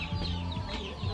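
A native chicken clucks in short repeated bursts, fairly close, over a steady low background hum.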